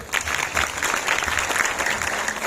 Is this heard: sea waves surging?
no